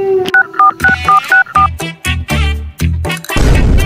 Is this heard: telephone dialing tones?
yes